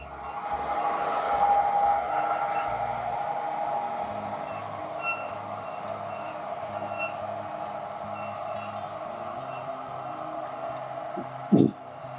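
A tractor pulling a planter rig sets off across a field, its engine a steady, fairly close drone with faint beeping tones above it and a short thump near the end.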